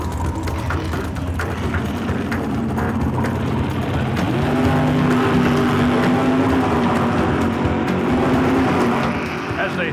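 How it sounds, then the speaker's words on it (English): Supercomp dragster engine roaring at a drag racing event, a loud steady drone that shifts pitch partway through, with crowd and announcer noise blended underneath. "that's Brittany Force with her Supercomp dragster"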